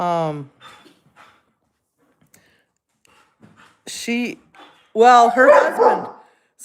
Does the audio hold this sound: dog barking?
yes